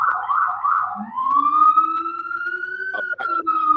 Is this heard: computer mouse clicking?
no